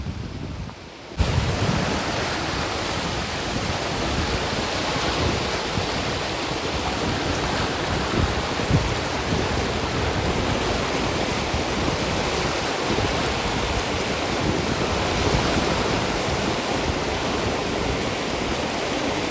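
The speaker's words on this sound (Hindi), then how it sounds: "ये समुद्र की लहरें उठ रही हैं।" The flooded Ganges at Rishikesh surges after red-alert monsoon rain, a loud, dense, unbroken roar of churning water that starts abruptly after a brief quiet moment and holds steady throughout.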